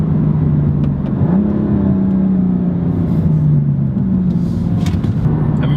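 BMW M4 LCI Competition engine held at moderate revs, a loud, steady mid-range growl with the pitch climbing and easing slightly as the throttle shifts, heard up close with no talking.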